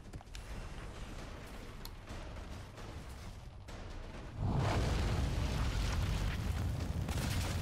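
Grenade explosions in the video game Outriders on Xbox One, a dense continuous rumbling boom that swells louder about halfway through and holds steady to the end, with no talk.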